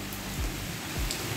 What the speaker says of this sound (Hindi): देखो तो सही इतनी बारिश हो रही है